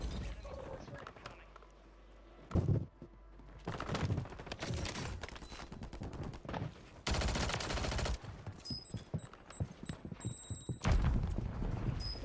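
Gunfire in Call of Duty Warzone, repeated bursts of automatic fire in clusters separated by short gaps, loud and close, with game effects and tones between volleys.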